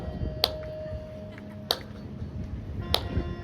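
Three sharp single hand claps, evenly spaced about a second apart, ring out over a low murmur and hum during a bhajan at a Bhagavat discourse gathering.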